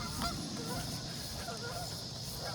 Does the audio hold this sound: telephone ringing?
no